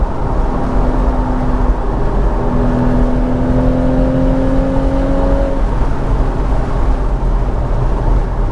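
A Porsche Boxster 981 with its 2.7L engine produces a loud, steady whirring drone, like a high-revving engine heard from inside or close by, with faint pitch rises midway and no talking.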